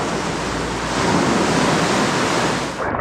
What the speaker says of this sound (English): the waves really come up here